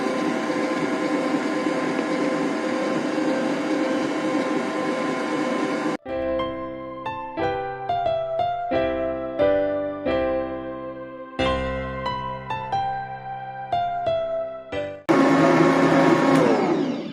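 An electric mixer beats German chocolate cake batter with a loud, steady motor whir, then music takes over for several seconds before the whirring mixer returns, close up.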